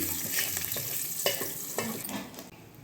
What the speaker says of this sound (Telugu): ఇదిగో తాలింపు వేసానండి, అయిపోయింది.